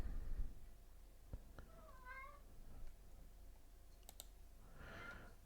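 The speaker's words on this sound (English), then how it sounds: "Cat either wants food." A domestic cat meows a few times indoors, a faint rising call under quiet room noise, with scattered clicks around it and a brief louder burst near the end.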